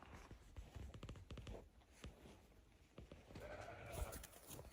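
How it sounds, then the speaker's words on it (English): A goat bleats on a quiet farm as winter winds down, with livestock calls and a few clip-clop-like knocks scattered through the scene and a louder bleat near the end. "there's my goat."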